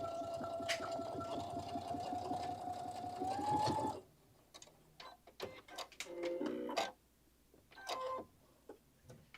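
A sewing machine with a quarter-inch presser foot top stitches a seam, running steadily for about four seconds, then falls quiet except for scattered clicks and a short whir of handling.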